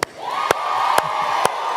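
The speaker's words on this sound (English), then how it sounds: "How about a big round of applause for Boston?" Convention crowd cheering and whooping in a big hall, a sustained roar with a few sharp bursts of clapping or shouts punctuating it.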